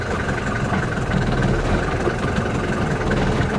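A hail-damaged Porsche Cayman engine runs close by, a steady rumbling idle with broadband mechanical noise that holds level throughout the short stretch, with no talking.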